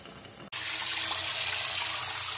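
A tap runs after a new water heater is installed, and the water switches on suddenly into a steady, loud, broadband rush that stays even throughout, with no talking.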